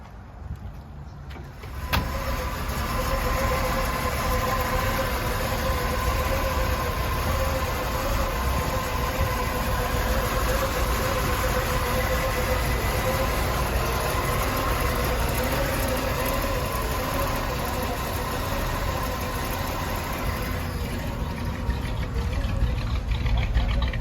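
A 1963 Chevrolet Impala SS drives on the road with a steady, continuous engine drone and road rumble heard from inside the car, holding an even level throughout.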